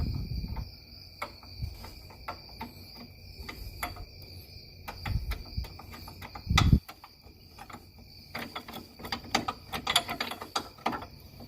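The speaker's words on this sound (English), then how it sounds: "let's go ahead and install this bracket here first, the one with the bolt" Work on an R32 Skyline fitting a bolted bracket for a GKTECH HICAS lock bar: scattered ratchet clicks, metallic taps and clunks come in irregular bursts, with a louder knock midway and quiet gaps between.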